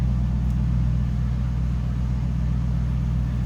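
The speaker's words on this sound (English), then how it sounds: "Again, that SLP exhaust." A 2002 Chevrolet Camaro SS 35th Anniversary convertible with an LS1 engine and SLP exhaust idles close by, giving a steady, deep, even rumble that holds without revving.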